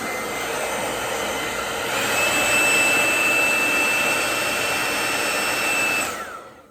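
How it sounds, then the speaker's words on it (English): A hair dryer runs steadily with a loud whooshing roar and a high whine, rising in pitch partway through, then switching off at the end. "this is the best hair dryer I have ever owned"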